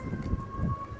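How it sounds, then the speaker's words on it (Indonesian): A steady, sustained siren tone signalling the end of the fast at dusk wails in the distance over low rumbling background noise, continuous for the whole moment. "sirene buka puasa sudah dibunyikan."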